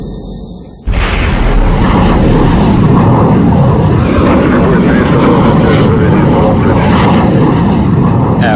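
MiG-19 jet fighter blasted off a mobile launch site by a powder booster rocket: a sudden loud onset after near silence, then a sustained, steady roaring thrust that fills the whole clip.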